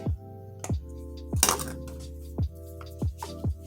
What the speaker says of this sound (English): Then you want to get a whisk